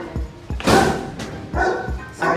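A dog barks in short repeated bow-wow bursts at close range, four or five sharp yaps with brief pauses between them, with faint background noise.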